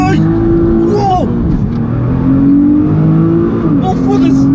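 A Nissan GT-R R35 launches hard at full throttle, its engine note rising loud and close in a steady climb, with people exclaiming over it.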